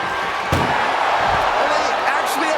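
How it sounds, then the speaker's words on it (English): An ambulance door slams in a wrestling video game, a sharp thud heard under steady crowd noise and commentary. "Doing their best just to shut that first door."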